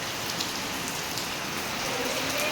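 Heavy rain pours steadily onto surfaces nearby, a dense, even hiss of drops with no pause and no talk.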